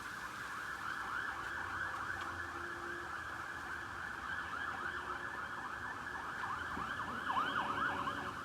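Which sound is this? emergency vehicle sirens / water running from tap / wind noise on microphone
emergency vehicle sirens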